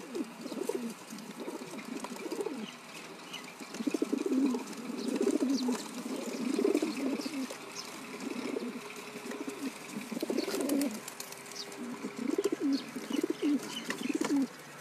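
A pigeon on a rooftop coos in soft, repeated low phrases, fairly near but faint, with no talking over it.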